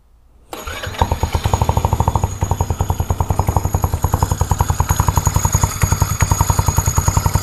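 A scooter engine fitted with a Reveno dry clutch, size 232, cold starts and settles into a fast, even, loud idle with a steady pulsing beat and a rattling clutch, heard close up and alone.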